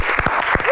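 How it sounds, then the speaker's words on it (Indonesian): Brief burst of audience clapping for guests at a televised Q&A talk show, loud and close, with voices rising over the claps. "Lebih meriah lagi kita berikan tepuk tangan untuk bintang tamu kita."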